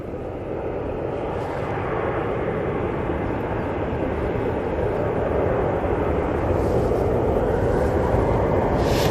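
A Hainan Airlines airliner at Manchester Airport gives off a loud, steady jet-engine roar that fills the air continuously and swells slightly toward the end.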